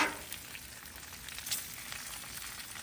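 Butter sizzles on a hot Loco griddle, a steady, even frying hiss with faint crackles running throughout, close and fairly quiet, no voices over it.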